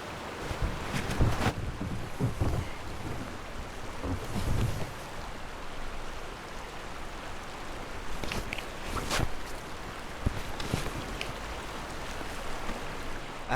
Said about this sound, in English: I am on Monument Creek in Colorado Springs.